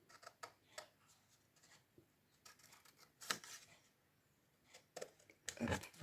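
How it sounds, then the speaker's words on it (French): Small scissors cutting paper for a scrapbook page, a series of quick, crisp snips at irregular intervals, close and fairly quiet, with faint rustling between the cuts. "Maintenant, on va reprendre des petits ciseaux pour découper ça."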